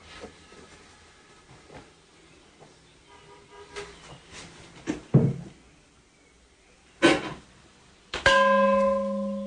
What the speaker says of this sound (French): Il est chargé de faire sonner le gong rituel qui aide les pèlerins à se concentrer lors de la prière.